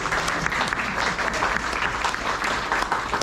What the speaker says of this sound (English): can we get a round of applause for all the mothers in the room?